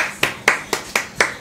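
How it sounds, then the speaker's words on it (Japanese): Five sharp hand claps at an even, steady pace, fairly close and distinct, with no talking over them, during a casual Japanese livestream broadcast. "拍手、イエイ。"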